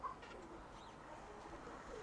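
A pigeon coos softly at a distance, a few low, rounded calls over a steady outdoor background hum, with no voices nearby.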